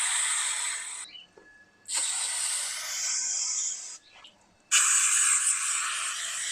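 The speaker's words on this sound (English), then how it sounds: "I'll spray those tracks down with a bit of brake cleaner" An aerosol can of brake cleaner sprays onto the window tracks of a 1971 Toyota Celica in three close, loud hissing bursts separated by short pauses, with no talk.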